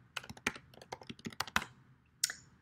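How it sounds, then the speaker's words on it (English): Someone types on a computer keyboard in quick, irregular bursts of crisp, close key clicks, with brief pauses between strokes and no talking. "So I'm typing 10 ways to order a Domino's pizza."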